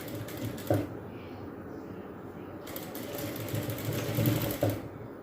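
A sewing machine runs steadily while stitching a kurti fitted with a zip, its close, continuous mechanical whirr broken by a couple of brief knocks, with no talking.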